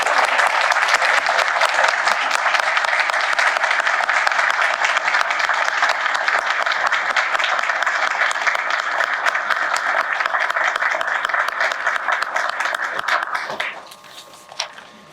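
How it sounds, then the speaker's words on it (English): An audience at a seminary lecture gives a long, full round of applause that stays dense and loud for about thirteen seconds, then drops off quickly to a few lingering claps. "Could we give Dr. Franks a round of applause?"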